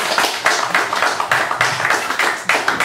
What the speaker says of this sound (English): more applause please for the fantastic project Adorno